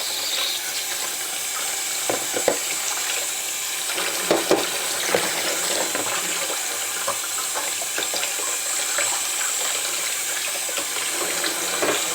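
A dishwasher filter is rinsed under a running kitchen tap, making a steady loud gush of water that splashes and varies a little as the filter moves through the stream. No one speaks.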